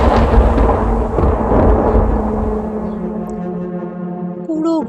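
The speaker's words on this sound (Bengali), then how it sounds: "বাইরে খুব জোরে একটা বাজ পড়ল হঠাৎ।" A loud thunder clap opens a horror audio story with a heavy low rumble that slowly fades into a lingering droning tone, standing alone without speech.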